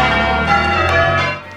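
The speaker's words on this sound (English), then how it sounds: "bringing to an end a centuries-old ritual of church bells tolling over Bollington" The church bells of St John's Church, Bollington, ring out loud and close, their overlapping metallic tones sustaining and layering for a brief stretch of pealing before easing off.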